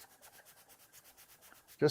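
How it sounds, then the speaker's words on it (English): Soft, steady rubbing strokes of sanding on wood, a rhythmic back-and-forth scratch close by, ending in a brief louder knock. "I'll give a little sanding on the edges here"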